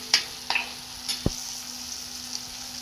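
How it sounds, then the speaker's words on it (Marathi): Masala fries in oil in a pan for spinach paneer, a soft continuous sizzle broken by a few sharp clicks and scraping stirs, close and fairly quiet with no talk. "ते बघा मसाला आपला छान असा परतलेला आहे तेल सुटलेलं आहे"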